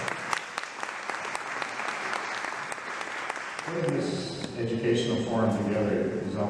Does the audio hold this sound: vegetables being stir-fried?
no